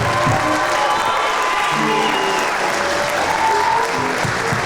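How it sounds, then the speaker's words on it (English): An audience at a high school jazz night applauds the student performers, a sustained, even wash of clapping with some cheering mixed in, while a few voices murmur underneath. "can we give up one more round of applause for all the kids you see on stage and all the hard work they have put in?"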